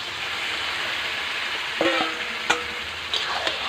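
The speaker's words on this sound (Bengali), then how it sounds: "এবার আমি এই চিকেনটা এই মশলার উপরে দিয়ে দিচ্ছি।" Chicken pieces are stir-fried in a spice masala for chicken kosha, with a steady close sizzle and a few sharp scraping clicks from a spatula against the pan. No one speaks.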